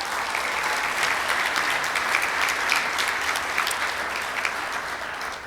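Rotary meeting audience applauding Linda, a full, sustained burst of clapping from a sizable crowd, even and continuous, easing slightly toward the end.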